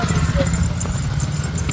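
Horses walk along a road on a group horse ride, their hooves clip-clopping in a steady, close rhythm beneath background voices and outdoor noise.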